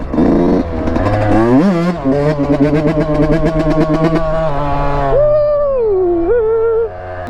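A two-stroke dirt bike engine revs hard and close, its buzzing, rising pitch climbing through gear changes with rapid throttle blips, then settling into a wavering high whine as the rider keeps going.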